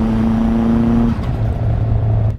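A turbocharged 1990 Toyota Camry engine revs hard and accelerates, a steady loud drone with a held tone that drops away as the car shifts into second and pulls again, heard up close with no talking.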